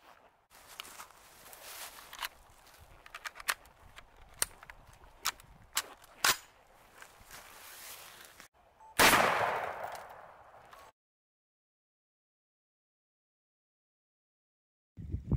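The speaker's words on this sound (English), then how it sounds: "we're going to be using some pretty standard 55 grain 223 bullets out of a Ruger Mini" Rifle shots from a Ruger Mini 14 firing 55 grain .223 rounds at budget armor, a string of sharp close cracks with irregular spacing, then one loud longer blast before silence.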